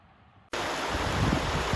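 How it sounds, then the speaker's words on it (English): A small waterfall on a mountain trail in Glacier National Park bursts in after a quiet half second, then pours as a loud, steady, broadband rush of falling water, close and continuous. "There's a little tiny waterfall"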